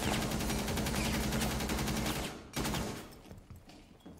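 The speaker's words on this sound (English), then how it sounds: "Is he gonna stop shooting?" Rapid automatic gunfire in Rainbow Six Siege hammers loud and close in a fast, even burst, then cuts off abruptly, leaving quieter scattered shots and ambient game noise.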